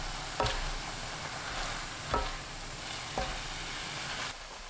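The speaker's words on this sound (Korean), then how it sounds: "팽이버섯 넣고 1분 30초 볶아주세요" Enoki mushrooms stir-fried with aged kimchi in a pan give a steady low sizzle, broken by three distinct scraping stirs spaced about a second apart.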